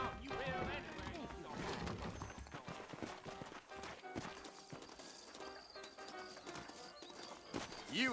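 Hooves of saddled horses clip-clop in Red Dead Redemption, a faint irregular clatter beneath music and game ambience, with someone talking over it.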